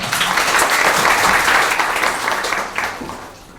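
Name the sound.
audience applause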